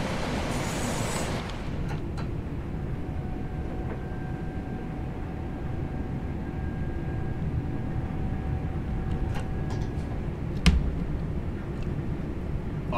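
A train rolls through Ardwick Station on the Glossop line in Train Sim World 3, a low steady rumble with faint wheel squeals and a sharp clack near the end; no talking.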